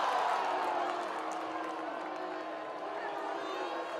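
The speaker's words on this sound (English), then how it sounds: "I think the crowd's just enjoying booing right now." A baseball crowd booing at a minor-league game in Ogden, a broad sustained roar of many voices that fades slightly, with commentary talk over it.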